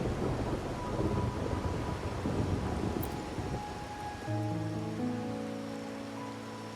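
Heavy rain pours steadily through a nighttime storm in the video game Wuthering Waves, with a low rumble of thunder rolling beneath it and soft musical tones rising near the end.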